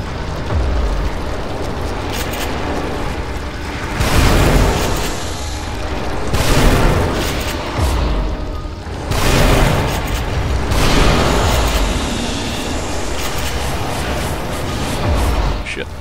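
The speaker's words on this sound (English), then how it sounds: "They're just jumping at me and exploding." Enemies leap and explode in the horror video game The Evil Within: a series of heavy, booming blasts every few seconds over constant noise, with a person talking throughout.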